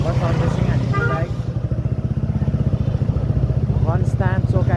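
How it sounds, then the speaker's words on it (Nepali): A freshly serviced motorcycle rides along with a steady, close engine thrum and rhythmic pulsing, while someone talks over it throughout. "जो भर्खर सर्भिसिङ हानेको बाइक"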